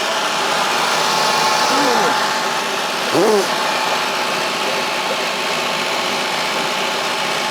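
Rusty old houseboat generator engine running steadily at close range, a continuous mid-pitched idling drone with faint whine, slightly wobbly and leaky, holding near 1800 RPM with one brief louder knock partway through.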